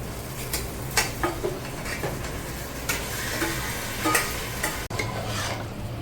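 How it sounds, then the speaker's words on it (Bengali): Chicken pieces frying over a high flame for Kolkata-style chicken biryani, with steady close sizzling and repeated stirring scrapes and clinks against the pan throughout. "দেখো মাংসটা কষাচ্ছি, কিন্তু আমি হাই ফ্লেমে একদম"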